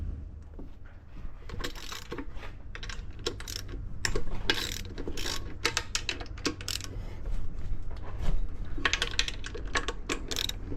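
A socket ratchet breaks free the water pump bolts on a Yamaha outboard motor, giving rapid close clicking pawl bursts mixed with metallic clanks and handling noise.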